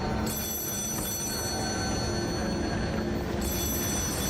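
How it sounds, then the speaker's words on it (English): An old-style telephone bell rings in the Lies of P video game, a continuous loud ring with a short pause before it resumes, heard alone without talk. "Answer the phone."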